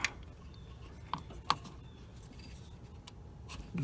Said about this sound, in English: let's see if I can get this with a box wrench.